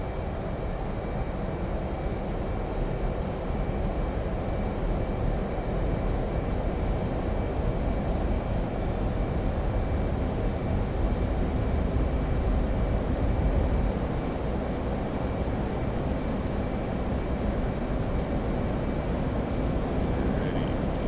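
An F/A-18C jet engine during a carrier launch in the DCS World flight simulator: a continuous, loud, broadband roar that holds steady throughout and swells slightly midway, with no voices.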